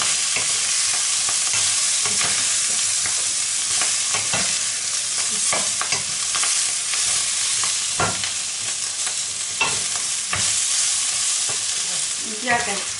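Green pepper frying in a pan with onion and chistorra gives a steady, close sizzle throughout, broken by frequent stirring scrapes and clicks, with no voices.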